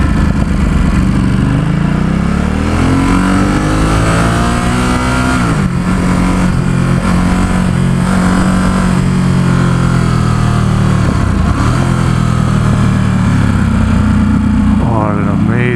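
A 2017 Ducati Supersport S motorcycle engine pulls hard through several rising gear sweeps on a winding road near San Francisco, loud and steady throughout with wind rush, under occasional talk from the rider.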